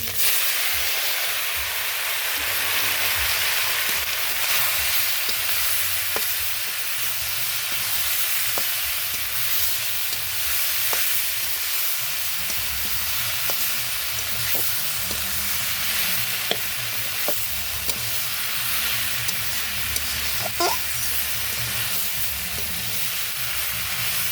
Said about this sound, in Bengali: ভাজা হয়েছে, মাছ ভাজা হয়েছে।